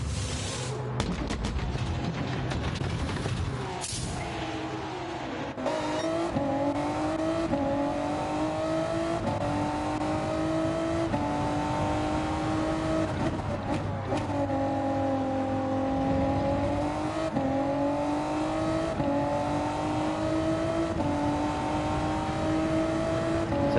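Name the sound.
race car driving in the Gran Turismo 7 video game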